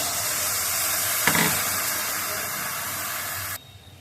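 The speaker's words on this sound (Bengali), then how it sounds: "কপিগুলো একটু ভাজা ভাজা হয়ে গেছে, একটু লঙ্কার গুঁড়া দিয়ে দিলাম।" Cauliflower pieces fry in a pan as chili powder is added, giving a steady loud sizzling hiss with a brief surge partway through before the sound drops off sharply near the end.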